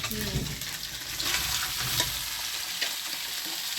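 Ash gourd goes into a pan with a fried fish head, bringing up loud, steady sizzling and oil crackle with occasional stirring scrapes.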